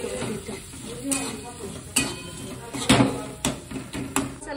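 Homemade masala stirred and fried in a pan, with a spoon scraping and clinking against the metal in irregular strokes over a steady sizzle, fairly close, while someone talks.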